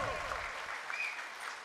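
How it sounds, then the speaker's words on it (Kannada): An audience claps at a school annual day celebration, a sustained ripple of many hands from a crowd at some distance, fairly faint, with a voice coming through over it. "ದಯವಿಟ್ಟು ದೊಡ್ಡ ಚಪ್ಪಾಳೆ ಬರಬೇಕು"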